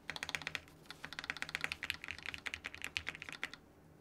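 Typing on a mechanical keyboard, a rapid uneven stream of crisp close keystrokes for about three and a half seconds before stopping, with a faint low hum beneath and no talk.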